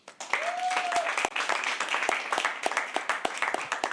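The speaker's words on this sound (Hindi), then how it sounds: "give him a big round of applause" Applause and claps from the audience at a live poetry open mic at The Habitat, uneven and moderately close, with a short whistle near the start.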